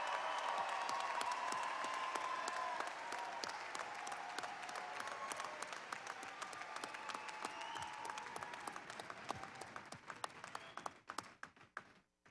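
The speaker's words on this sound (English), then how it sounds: "please give me one more round of applause for these graduates that are just finishing today" Sustained applause from a large commencement audience honouring graduates at Southeast Missouri State University's spring 2022 ceremony, dense and steady at first, then thinning into scattered claps as it fades out.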